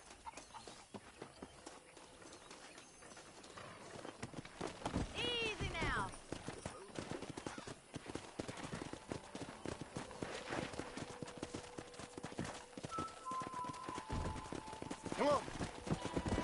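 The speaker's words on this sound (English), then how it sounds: "let's see if we can't wrangle some horses" Horses clip-clop and trot in a Red Dead Redemption 2 western video game, with a brief whinny partway through, while characters talk over the hooves and a rope-wrangling scene plays out.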